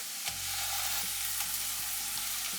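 Ground masala paste sizzles steadily in a hot pan for a prawn ghee roast, a continuous close hiss with faint periodic scrapes from stirring, no voices.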